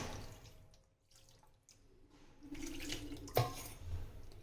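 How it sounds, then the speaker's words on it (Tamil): Water runs from a tap into a sink in soft, uneven splashes, with a brief sharper splash partway through and quiet kitchen background. "இதுலேயே நம்ம தண்ணி விட்டுக்கலாம்"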